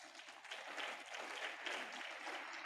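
Audience at an academic lecture applauding a guest lecturer, steady dense clapping at a faint, distant level, sustained without voices.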